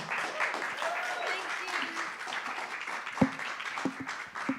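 Audience applause for a singer at The Bedford live music venue, a steady crowd clapping that fills the room throughout, with a few voices and whoops rising through it near the end.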